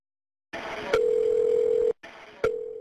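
A landline telephone gives a steady, loud dial tone, with sharp clicks as the line is worked. The tone cuts out briefly and then returns, as when someone dials 911. No one speaks.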